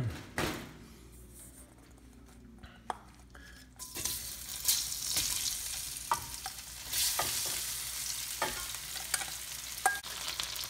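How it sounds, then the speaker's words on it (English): Shrimp frying in a pan for a black bean seafood dish, hissing and sizzling steadily up close while a utensil stirs and scrapes with scattered clicks and taps against the pan. "Okay, we're gonna fry our shrimp."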